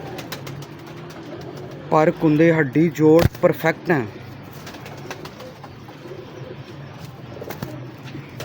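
Pigeons coo in a quick cluster of rolling, throaty calls close by for a couple of seconds, while someone talks before and after.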